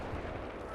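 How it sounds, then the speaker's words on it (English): Artillery barrage of 155 mm shells landing in the war game Combat Mission: Black Sea, a dense, continuous rumble of explosions with no distinct individual blasts. "the barrage is falling"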